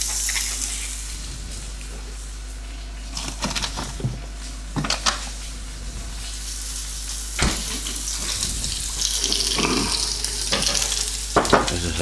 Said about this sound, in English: I'll put the onions now into the griddle so that they soak up the nice steak juice